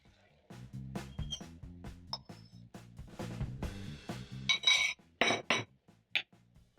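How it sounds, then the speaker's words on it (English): A fork whisks eggs for masala scrambled eggs with quick, light taps and clinks against a bowl, then sharper metallic clinks as the mixture goes into a pan, close and moderately quiet. "you're going to use a fork and whisk in the eggs until fully combined"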